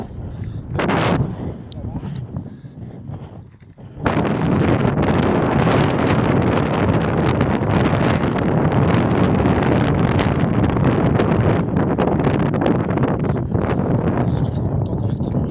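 Strong wind buffets the microphone during a trail race in Toul, France, in a loud, constant roar after a quieter start, with gusty rumbling throughout and no clear voices.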